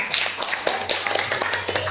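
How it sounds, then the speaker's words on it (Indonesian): Students clapping in a classroom, a short spell of scattered, uneven hand claps from a small group, close and moderately loud. "tepuk tangan anak Ibu"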